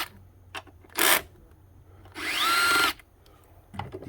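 An impact gun fitted with an 8 mm socket works on 10 mm throttle body bolts in two short bursts, a brief first spin and a longer whirring second run, close by with quiet gaps between.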